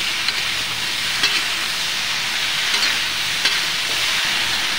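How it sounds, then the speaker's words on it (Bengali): Potato and bottle gourd with turmeric fry in a pan, giving a steady hiss as their water cooks off. The sizzle is broken by a few faint taps of stirring. "কিছু টাইম আমি ভাজি করে নেব। এর যে জলটা সেটা একটু শুকায় নেব।"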